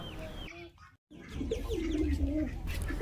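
Pigeons cooing on a small integrated farm, a soft warbling coo rising out of a low rumble of background noise after a brief quiet gap, close and moderately loud.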